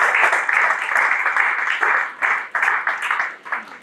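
A round of applause for Mr. Tizi at an alumni testimony event. Dense, steady clapping from an audience fills the whole stretch with brief dips, and there is no talking over it.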